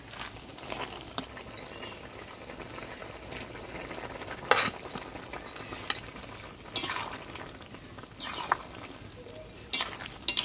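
Fried gulsha fish go into a simmering curry, a soft bubbling sizzle running underneath with occasional scrapes and clinks of a spatula stirring the pan, fairly quiet throughout.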